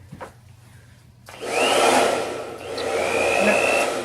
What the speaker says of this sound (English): I'm going to put my blow dryer on high heat and high speed.